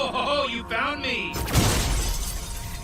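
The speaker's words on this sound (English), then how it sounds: "Shattering the glass of a place like Rick did right here" Glass shatters in a cartoon crime scene, a loud sudden crash followed by a long spray of tinkling shards, with cartoon voices talking just before the break.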